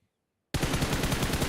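Rapid automatic gunfire in the PUBG Mobile battle royale game, bursting in abruptly after a brief silence and continuing as a dense, loud stream of shots.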